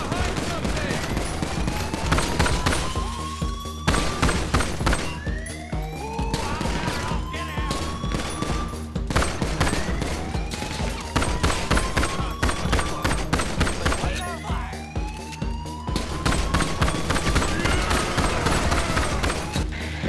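Bursts of automatic gunfire ring out again and again during a Diamond Casino heist prep mission in Grand Theft Auto V, loud, rapid and dense throughout, with players' voices faintly in the mix.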